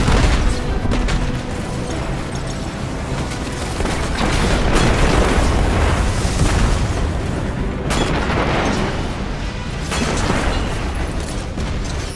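Red Legion tanks fire in Destiny 2 gameplay, heavy booming explosions swelling in repeated waves over a dense rumble of battle noise, with no voices.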